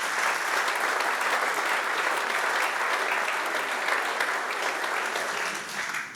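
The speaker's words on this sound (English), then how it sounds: "Give him a round of applause." Steady round of audience applause at a 40th-anniversary celebration event, even and sustained before tapering off at the very end.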